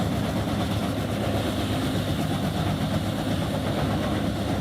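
Engine of a Bandit Beast 4680XP wood chipper running at a steady, loud, constant drone with heavy low rumble and vibration, close by, with no breaks.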